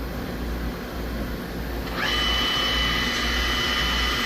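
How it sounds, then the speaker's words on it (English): A Star SR 32J CNC Swiss lathe runs its main-side power driven tools, a steady mechanical hum and whir that steps up to a louder, higher whine as the spindle speed rises midway, with no talking. "This video is for power driven tools on the main side."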